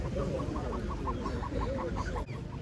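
Poultry at a rural market in Kyiv region, ducks among them, give a series of soft, regularly spaced clucks and quacks, faint and a little distant, over a low background murmur.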